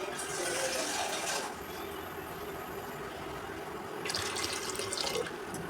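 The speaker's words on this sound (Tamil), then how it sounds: "இன்னும் கொஞ்சம் தண்ணி ஊற்றிப்போம்." Water pours steadily from a tap into a pressure cooker holding potatoes, a soft continuous splashing stream that swells louder at the start and again near the end.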